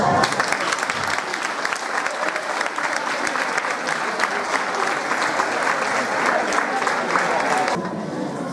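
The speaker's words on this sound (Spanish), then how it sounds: "Un fuerte aplauso." Audience at a school end-of-year party bursts into loud, sustained applause, a thick mass of many hands clapping for several seconds before cutting off sharply.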